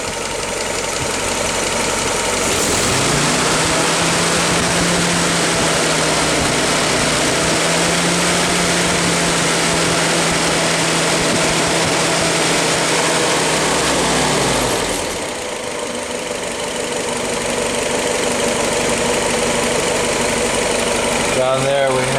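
A cold Willys L-head engine idles just after starting, a loud continuous mechanical drone with a steady low hum, holding fairly smooth throughout with a slight change in pitch midway.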